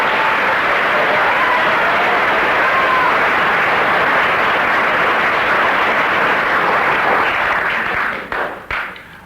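A studio audience at a comedy panel show in the I'm Sorry I Haven't A Clue series applauds loudly and continuously, a dense wash of clapping that tapers off into a few last claps at the end.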